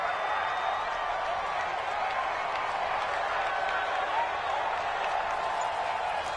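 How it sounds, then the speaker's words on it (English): A stadium crowd in a PS4 American football video game roars steadily ahead of a big third down, a dense, continuous wash of cheering and applause at constant loudness. "the crowd getting into it as we come up on a big 3rd down"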